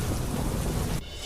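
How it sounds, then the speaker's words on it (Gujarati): Heavy monsoon rain pours down in Didwana district, Rajasthan, on waterlogged roads, a dense continuous roar of rainfall with deep rumbling, cutting off abruptly near the end. "રાજસ્થાનના ડીડવાના જિલ્લામાં પડ્યો મુશળધાર વરસાદ"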